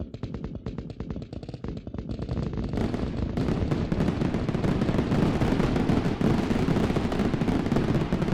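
Fireworks effect in a Unity-made game during a celebration stream: a dense, continuous barrage of crackling pops and bursts, loud and sustained throughout, growing fuller after the first few seconds.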